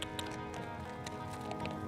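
Horse hooves clip-clopping as the animal runs toward a target on an outdoor course, a quick, steady patter of hoofbeats heard at moderate distance over background noise.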